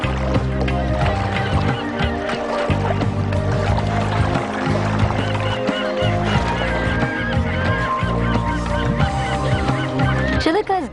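Greylag geese honk repeatedly at Chilika lake, a wetland, their calls layered over a continuous dense wash of sound that includes other water birds, close and loud throughout.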